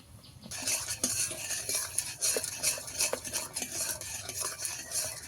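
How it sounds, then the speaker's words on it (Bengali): Palm fruit pulp is stirred with sugar and salt in a pot, a spoon scraping and clinking steadily against the metal in a dense, continuous run with no voices. "এক মুঠো চিনি দিয়ে দেব, লবণ দিয়ে দেব, কিছু একসঙ্গে ভালো করে মিশিয়ে নেব।"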